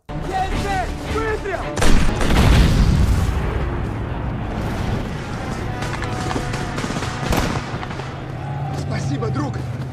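Artillery shells slam into a Nazi tank in a war film battle scene, heavy booms and blasts rolling through continuous loud combat noise, with a voice speaking over the din.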